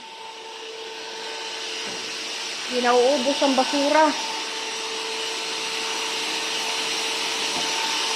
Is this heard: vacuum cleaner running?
yes